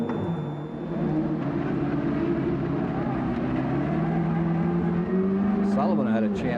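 An Alfa Romeo-powered Indy race car at the 1991 CART Detroit race holds a loud, steady high engine whine that climbs in pitch as it drives on, with race commentary over it.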